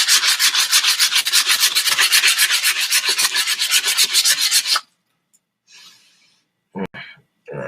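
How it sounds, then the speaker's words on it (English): Steady rhythmic sanding strokes rasp back and forth on a wooden wand, loud and close, for several seconds before stopping, followed by a few soft rustles and handling noises. "after sanding the stick smooth"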